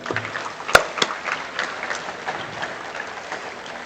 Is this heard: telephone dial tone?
no